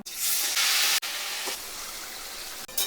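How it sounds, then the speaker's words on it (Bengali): Marinated meat dropped into hot fried-onion oil for biryani, giving a loud, steady sizzle and hiss that swells at the start, eases slightly and continues throughout, with no talking. "তেলের মধ্যে আমি ম্যারিনেট করা মাংসগুলো দিয়ে দেবো"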